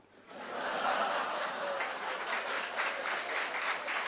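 An audience at a lecture on secularism in the Indian constitution breaks into steady applause that swells within half a second and holds as a dense, even clatter of many hands, with a few chuckles mixed in.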